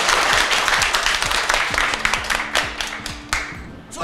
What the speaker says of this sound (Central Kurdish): یەک چەپڵەی بەهێز بۆ خۆ